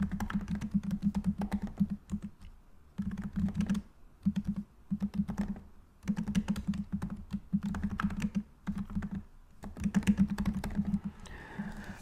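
Typing on a computer keyboard, rapid close clicking in bursts separated by short pauses, steady throughout with no talking over it.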